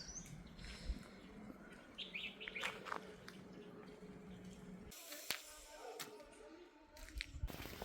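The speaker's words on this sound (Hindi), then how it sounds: "चिड़ियाओं का खाना रख दिया था, खूब सारी चिड़ियाएँ आने लगी थी" Birds chirp in quick, scattered bursts around a feeder on a rainy morning in the mountains, small and fairly faint against a steady wash of background noise, with a few sharper clicks near the end.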